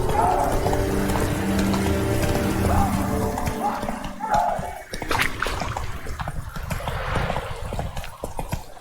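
Roach, the horse in The Witcher 3 video game, gallops with rhythmic clip-clop hoofbeats that run steadily throughout, fairly loud, with a brief neigh-like sound midway and some background game noise.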